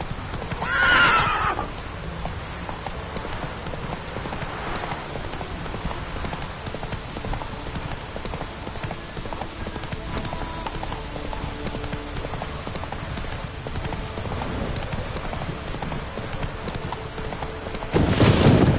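Horse trotting in The Witcher 3 on PS5, steady clip-clop of hooves throughout with a whinny near the start and a louder burst at the end.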